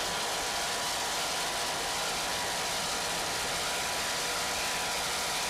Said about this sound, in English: Those Chevy engines sound excellent.